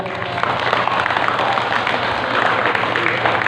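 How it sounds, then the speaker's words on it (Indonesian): Women in the audience at a village anniversary celebration night in Pinang Gading clap together in a steady, dense round of applause lasting a few seconds, with crowd murmur and some voices mixed in. "Tepuk tangan ibu-ibu"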